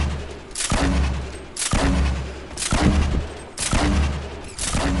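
Gunfire in Fortnite, a series of loud, evenly spaced heavy shots with booming low ends, repeating about once a second, close to the listener.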